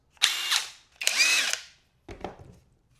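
Three short bursts from cordless impact drivers, a brushless DeWalt among them, each whining quickly up to speed and then winding down, loud and close with brief gaps between. The last burst comes from a brushed driver and is shorter and rougher.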